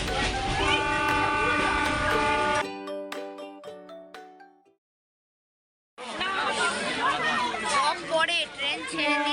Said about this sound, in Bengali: আমরা এখন ট্রেনে করে যাচ্ছি উদয়নারায়ণপুর।